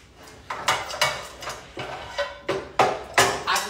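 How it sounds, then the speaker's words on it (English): Metal pots and pans clatter and clank in irregular bursts while someone searches through cookware for a pot to fry fries in, close and fairly loud. "I gotta find me a pot for the fries"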